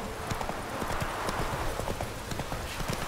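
Roach the horse trots in The Witcher 3, giving a quick, even clip-clop of hooves that runs steadily throughout, close and moderately loud, with faint game ambience underneath.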